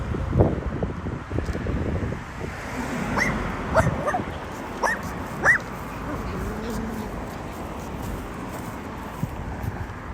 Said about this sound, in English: I think they're Chihuahuas. They're Chihuahuas.